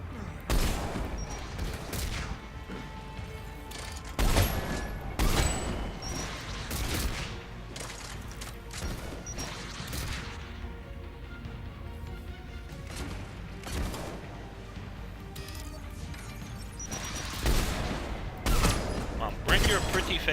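Gunfire from a Mass Effect 3 firefight crackles in dense bursts throughout, with sharp loud shots and heavier impacts rising over a constant battle din, joined by occasional speech.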